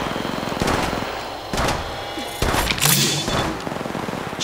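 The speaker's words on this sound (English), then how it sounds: "Shooting!" Gunfire in the mobile battle-royale game Apex Legends Mobile, with dense, rapid bursts cracking repeatedly across the whole stretch. Loud, close shots come in several clusters, with a heavier blast near the middle.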